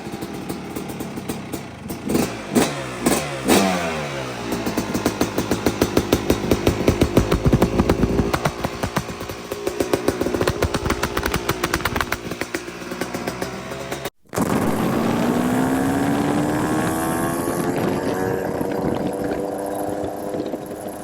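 A modified Yamaha YZ250 two-stroke dirt bike is kicked over and fires, crackling and revving in sharp bursts, then after a brief cutout it settles into a loud, steady run with rising revs, close by and with no talk.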